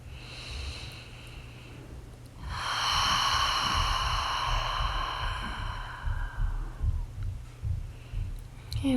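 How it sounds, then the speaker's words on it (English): Deep breathing during yoga practice: a long, breathy exhale swells up loud and close, then trails off into softer, uneven breaths. "A couple more breaths."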